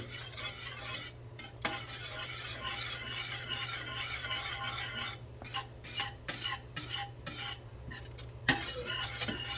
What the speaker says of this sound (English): we're just gonna whisk this until all the butter is gone